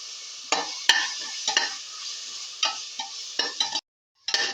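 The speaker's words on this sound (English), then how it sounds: "Thoroughly saute it." Potato and fenugreek leaves being stirred and sautéed in a pan for a coconut stew, with repeated scraping strokes and light sizzling in an uneven rhythm, close and clear, and a short pause near the end.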